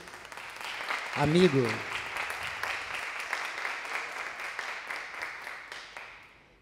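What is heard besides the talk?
audience applause for guest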